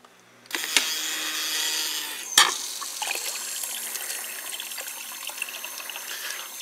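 An automotive electric fuel pump pumps water through a tube back into a container, starting with a click, then a steady splashing trickle and faint pump whir after a second sharp knock.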